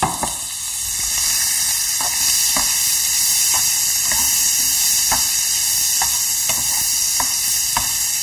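Mushrooms and onions frying in a pan for coq au vin, a constant close hiss and sizzle with faint regular clicks of a utensil against the pan, no voices.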